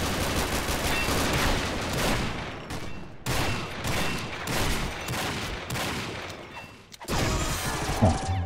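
Gunfire in the video game Combat Arms: rapid, dense bursts of automatic shots, loud and close, broken by brief pauses, with a short mechanical clatter near the end.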